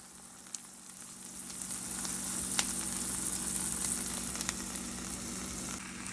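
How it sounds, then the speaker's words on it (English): Reuben sandwiches grilling in plenty of butter in a pan give a steady, close sizzle that builds slightly and holds, with a few faint crackles and occasional light clicks. "So into a pan, I just add plenty of butter and of course my sandwiches. So I'm gonna grill on both sides until it's golden crispy."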